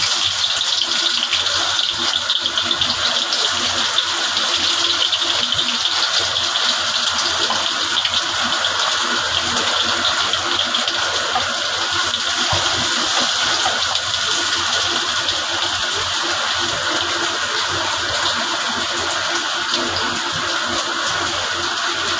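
Chopped onion and garlic hitting hot mustard oil in a kadai pan, giving a loud, steady, continuous hiss and crackle that carries on unbroken.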